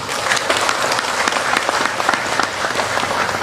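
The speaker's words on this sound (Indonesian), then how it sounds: "Tepuk tangan semuanya." A crowd claps loudly for the West Java governor at a public event, dense continuous applause filling the whole moment without any talk.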